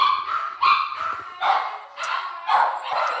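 A dog howls and barks indoors, a series of long rising howls repeating about every second, fairly close and alone.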